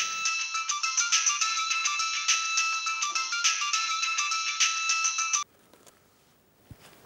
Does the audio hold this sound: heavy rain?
no